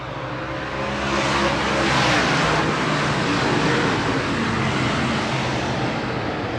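A pack of late model sportsman race cars accelerates hard after a restart at a 2024 Keystone Cup feature, their engines a loud, dense roar that swells as they pass close by and then holds steady.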